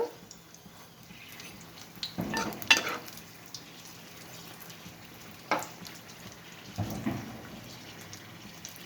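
Chili bajji, ajwain-spiced street-food fritters, fry in hot oil with a steady low sizzle, broken by a few louder bursts of stirring or splashing, close by and with no talking.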